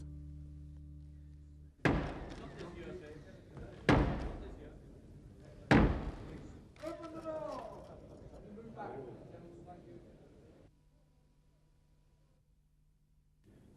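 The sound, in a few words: House of Commons doors closing on the Queen's messenger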